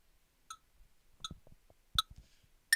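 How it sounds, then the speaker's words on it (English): Crisp metronome ticks repeat steadily at 80 BPM, with soft rustling and low thumps underneath between the clicks. "Right, we'll take it to 80."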